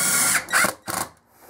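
Drill driving a sheetrock screw through the metal housing of a surface-mount LED light fixture into a garage ceiling, heard as a few short bursts of whirring with brief pauses between them.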